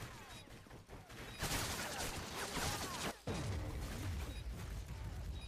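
Call of Duty MW3 gameplay gunfire rattles in sustained automatic bursts with sharp cracks and mechanical clatter, loud and dense for most of the stretch with a brief dip midway.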